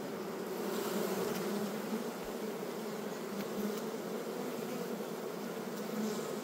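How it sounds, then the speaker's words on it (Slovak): A queenless honeybee colony, recently swarmed, drones inside its hive with a dense, continuous low buzzing hum, steady and close throughout with no voices. "Včelstvo bez matky tak duní."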